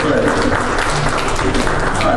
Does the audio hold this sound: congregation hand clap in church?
yes